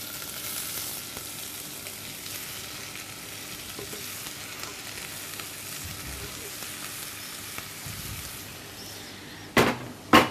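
A steady, soft sizzle of endives frying in melted butter in a saucepan, near and even, ending with a couple of sharp knocks.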